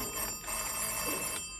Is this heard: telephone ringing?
yes